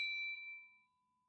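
A single bright notification-bell ding rings out cleanly and alone, its clear metallic tone sustaining and slowly fading over about a second.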